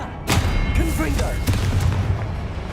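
Blasting-spell explosions in the Hogwarts Legacy video game, a loud booming hit followed by further thumping blasts and rumbling impacts over dense game action, with a voice calling out during the fight.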